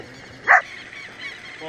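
One sharp dog bark rings out, fairly close and brief, against a low steady background at a rural fishing spot near Curitiba, with soft voices murmuring faintly around it.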